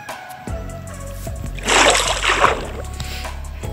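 Splashing water in a video game as a character swims upward, a soft trickle giving way to a louder burst of sloshing and splatter over low steady game ambience.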